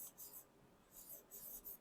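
Chalk or marker scratches on a classroom board in quick faint strokes, two short bursts of writing with a pause between.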